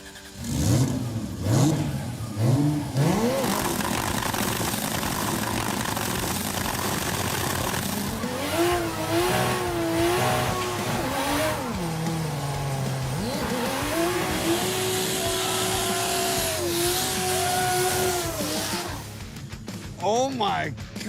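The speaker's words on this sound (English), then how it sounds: "Death Metal Charger doing 2JZ fireball burnouts" Turbocharged 2JZ-swapped Death Metal Charger doing fireball burnouts: loud, sustained engine revving with rising and falling pitch sweeps and possible tire squeal, with voices shouting over it near the end.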